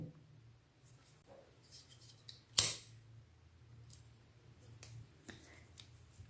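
A single sharp snip of scissors cutting a strand of crochet yarn, close and fairly loud, standing alone against a quiet background hum with a few faint small handling clicks.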